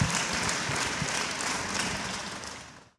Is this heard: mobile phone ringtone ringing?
no